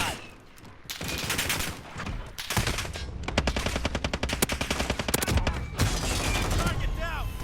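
An SAW light machine gun fires in Call of Duty Modern Warfare, long rapid bursts of loud, close gunfire with brief pauses between strings of shots.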